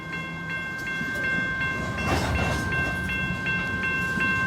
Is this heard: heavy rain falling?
no